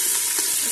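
Cubes of lamb meat with a little fat frying in hot oil over high heat, giving a steady, dense hiss and crackle throughout a brief close-up moment without talk.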